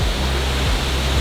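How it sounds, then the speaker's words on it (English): A waterfall on the road from Chiang Mai to Pai roars as a dense, steady rush of broadband noise, loud and close, with no voices. "this waterfall is incredible"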